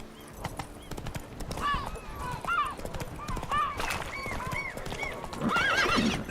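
Roach the horse in The Witcher 3 neighs and whinnies in repeated high calls over rapid galloping hoofbeats, with a person talking at the same time.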